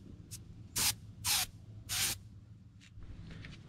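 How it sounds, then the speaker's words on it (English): Three short hissing bursts of iridescent gold spray paint mist a bluegill replica fish mount, close and crisp over quiet room tone, with a couple of fainter puffs before and after. "So here's a mist of iridescent gold along the back."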